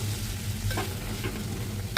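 Flat broad beans fry in a pan with roasted gram powder, giving a soft, steady sizzle with a couple of brief stirring scrapes.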